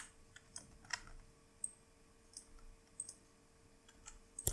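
Quiet computer mouse clicks during copying and pasting of Python code, a handful of crisp, isolated clicks spaced irregularly over a faint steady hum.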